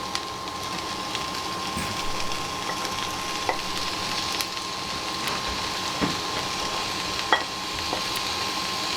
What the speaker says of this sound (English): Put in your onion, and basically we'll cook this until it's translucent